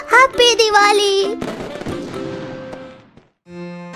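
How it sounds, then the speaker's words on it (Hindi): A homemade Diwali firecracker pops and crackles in quick bursts after a brief high-pitched voice, ending with a short tonal beep. "हैप्पी दिवाली वाला अतरंगी पटाखा"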